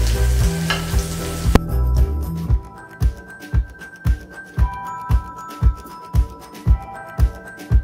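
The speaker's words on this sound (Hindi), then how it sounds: "इसे 1 मिनट के लिए फ्राई करेंगे। और अब हम इसमें टमाटर डाल देंगे।" Tomatoes frying in a pan: a loud, steady sizzle at first, then quieter with a regular scraping stir roughly twice a second, close by.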